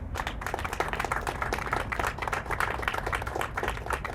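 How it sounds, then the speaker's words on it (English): Steady applause from a crowd for a color guard at a WWI commemoration ceremony, dense continuous clapping that holds at an even level throughout without any voices. "Please give our color guard a round of applause, please."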